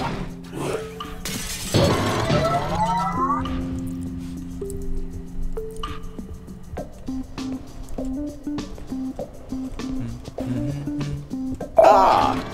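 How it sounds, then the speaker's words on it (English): Glass shatters with a sharp, loud crash in the video game Quantum Conundrum, followed by tinkling debris and soft tonal game sounds, with a quieter burst near the end. "Unfortunately, the breaking of this glass is a necessary evil."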